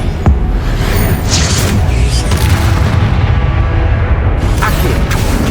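A spell cast in Hogwarts Legacy, heard as a loud booming magical blast that stays dense and rumbling throughout, with game combat effects layered over it.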